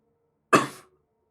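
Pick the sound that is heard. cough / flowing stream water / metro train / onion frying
cough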